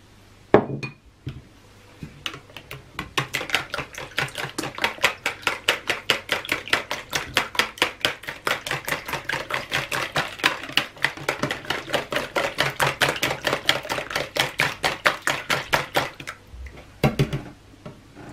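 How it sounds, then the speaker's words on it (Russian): Four eggs whisked by hand in a bowl for a potato pie baked under cheese, a fast steady run of close, sharp clicking strokes against the bowl that starts after a few taps and stops with a final knock. "берем 4 яйца наши. Будем сейчас их взбивать"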